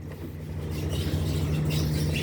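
Electric tricycle with a 60V 20Ah battery climbing a slope in first gear, giving a steady low motor hum with a faint whine, close and continuous throughout without pause.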